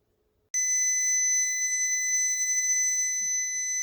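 A steady, pure high-pitched electronic tone from an antenna tuning indicator circuit, with the antenna out of resonance, starts abruptly and holds unwavering at constant loudness for several seconds, close and alone.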